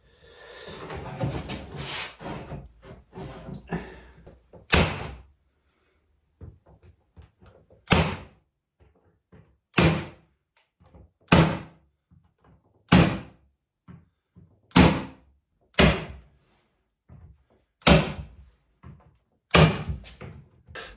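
Tacks being hammered into a wooden N gauge model railway baseboard: about a dozen sharp, loud knocks at a slow, uneven pace, each standing alone against near silence after a stretch of rustling handling noise.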